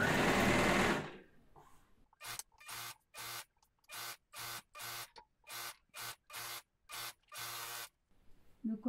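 A sewing machine stitches ribbing onto a sweatshirt collar and hem, running in about ten short, even bursts separated by brief pauses. It sounds close, with a louder rustle of fabric handling at the start.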